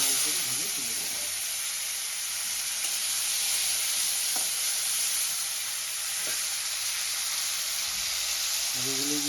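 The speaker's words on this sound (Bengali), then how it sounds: "আলুগুলোকে আমি লাল লাল করে ভেজে তুলে দেবো" Potatoes frying in hot oil in a pan after eggs, a steady, continuous close sizzle and hiss throughout with a few faint clinks of utensils.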